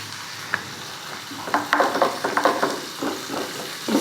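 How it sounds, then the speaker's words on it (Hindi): Cashews frying in hot oil in a pan while being stirred for chicken changezi gravy, a steady close sizzle broken by repeated scraping strokes of the spoon. "उसी में ये काजू भी ऐड करेंगे। इन्हें हल्का सा थोड़ा कलर चेंज होने तक फ्राई करेंगे।"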